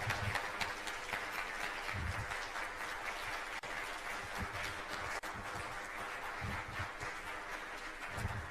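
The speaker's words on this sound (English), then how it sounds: "as we clap for Elizabeth" Conference audience applauding a speaker at the Toastmasters East Africa Conference 2023, a steady, dense clapping that holds at an even level throughout, with no voices over it.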